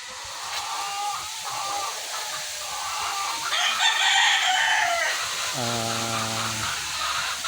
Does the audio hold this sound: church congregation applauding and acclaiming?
no